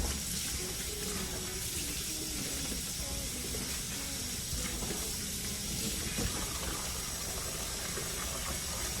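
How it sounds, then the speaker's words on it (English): Tap water runs steadily over a fabric mask in a sink, a continuous broadband hiss and splash close by. "you will run the water over the mask until it runs clear"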